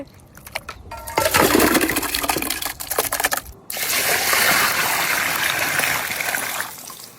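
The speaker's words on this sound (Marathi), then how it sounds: "आपण आता कपुरे व्यवस्थित धुवून घेऊ स्वच्छ पाण्याने" Goat testicles (kapure) are washed in clean water: after a few light knocks, loud splashing and sloshing of water runs continuously, with a brief break midway.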